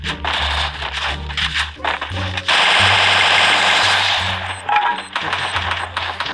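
Rapid automatic gunfire in the Free Fire battle-royale video game, loud and close, with bursts of shots and a sustained stretch of continuous fire in the middle, plus scattered effects and a brief voice.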